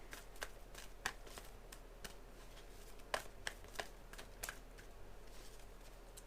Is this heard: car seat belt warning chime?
no